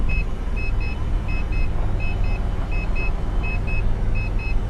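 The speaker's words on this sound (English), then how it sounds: "And then for it to go down, you just have to hit unlock. It starts beeping" Repeated paired electronic warning beeps sound at a steady rhythm while a car's convertible roof lowers, over a constant low engine or motor hum with no talking.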